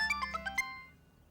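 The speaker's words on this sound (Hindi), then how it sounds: "मदीहा का फोन" A mobile phone ringtone plays five quick bright melodic notes in a rising-falling pattern, then fades out, heard alone in a quiet domestic room.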